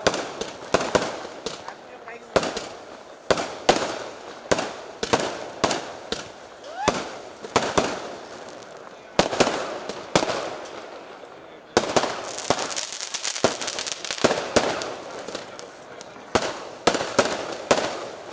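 Firecrackers burst in a long, rapid series of sharp, loud bangs, some overlapping into crackling clusters, with voices talking underneath.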